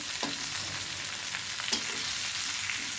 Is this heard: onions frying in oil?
yes